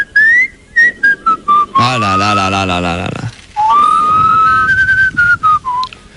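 Someone whistles a bright melody in short phrases near the listener, interrupted midway by a sung, buzzy vocal passage before the whistling resumes.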